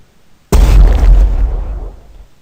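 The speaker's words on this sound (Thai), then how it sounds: "อ่าเรียบร้อยเสียงผู้เล่นระเบิดนะครับ" A single loud, booming explosion of a player's ship in a flying game bursts in suddenly and then rumbles away over about two seconds, with no voices.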